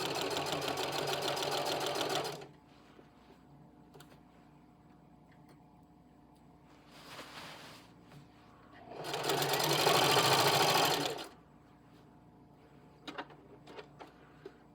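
A Singer HD 4411 sewing machine straight-stitches heavy fabric at maximum feed in three bursts: a long whirring run, a short one, then another few seconds of rapid mechanical chatter, separated by quiet pauses with faint clicks.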